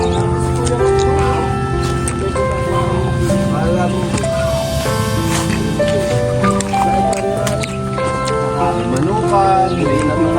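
Chickens at a rural coop cluck and squawk continuously and fairly loudly, several birds overlapping, with people talking in the background throughout.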